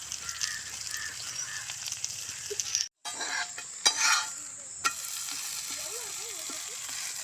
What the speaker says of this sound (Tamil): இப்போ எண்ணெய் வந்து நான் கொஞ்சம் அதிகமாகவே விடுறேன், அப்போ தான் நல்லாயிருக்கும்.